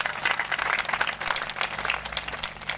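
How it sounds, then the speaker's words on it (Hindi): Dense, steady audience applause at a Bhagwat Katha gathering honoring a pandit, many hands clapping together with an underlying electrical hum. "तालियां जोर से"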